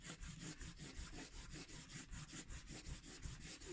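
Steady rhythmic rubbing of polishing compound onto a leather strop for knife sharpening, a continuous scratchy back-and-forth scrape with regular strokes, close and alone.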